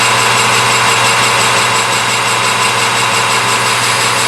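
Metal lathe taking a cut with an old-grade Kennametal KC910 carbide insert: a loud, steady mechanical drone and hum that runs unbroken throughout, with no voices.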